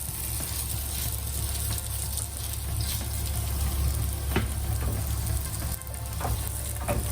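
Sabudana cutlets fry in a pan over medium-high flame, a close, continuous sizzle and crackle of oil with a low rumbling hum beneath and a few sharp pops.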